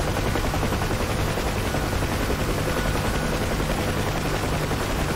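A UH-1 Huey helicopter in the DCS flight simulator gives off a steady, loud turbine whine and rotor thrum that holds unbroken for the whole stretch, with no voices.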